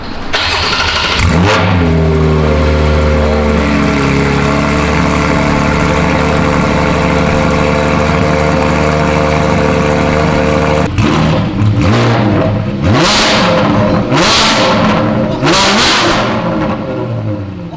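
A Porsche GT4 fitted with a Dundon megaphone cracked pretzel exhaust cold-starts inside a garage: a loud cranking catch, then a sustained high-revving roar that drops away and breaks into sharp, raspy throttle blips, close and with no talk.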